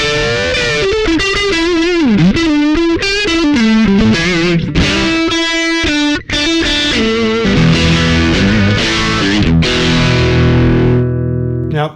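Electric guitar through a Behringer PB100 preamp booster pedal, playing chords and single-note runs with a thick, boosted, overdriven tone, loud and sustained, with no voices.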